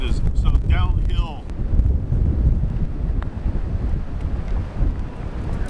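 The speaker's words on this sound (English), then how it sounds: "This wind is nuts right now." Strong, gusty wind on a golf course buffets the microphone in a constant low roar, with brief speech early on under the rumble.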